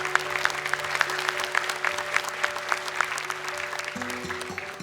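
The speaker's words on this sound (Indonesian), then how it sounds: "Tepuk tangan dong untuk Ula." A studio audience at the Hafiz Indonesia 2020 Quran recitation television show applauds steadily throughout. Sustained musical tones hum underneath, and a new tone enters near the end.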